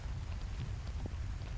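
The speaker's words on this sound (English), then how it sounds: "I have a tin roof over my head," Heavy rain drums on a tin roof above a motor racing venue in Portimão, a dense, continuous low rumble and patter close overhead.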